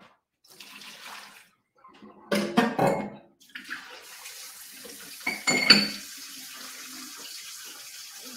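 Tap water splashes into a sink with clinking dishes, rising in short bursts and then settling into a steady, moderate running flow; no talking.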